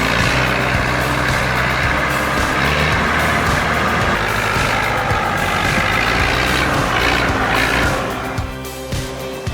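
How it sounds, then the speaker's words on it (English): Heavy truck engine laboring loudly and steadily as it climbs a muddy forest slope, with droning low rumble and grinding machinery noise throughout, easing off near the end. "the truck made it up that treacherous slope with a little help from some serious machinery"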